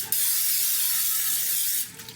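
A spray bottle gives one sustained hiss during cooking, loud and close, lasting nearly two seconds before cutting off.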